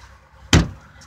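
The rear hatch glass of a Toyota Highlander Limited pops open with a single sharp close clunk, followed by a short fading rattle in a quiet setting.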